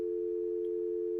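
A steady electronic phone tone drones evenly in the video game OneShot, a single unbroken hum with no voices.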